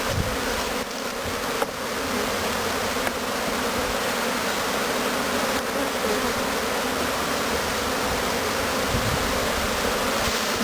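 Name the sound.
honey bees buzzing at a hive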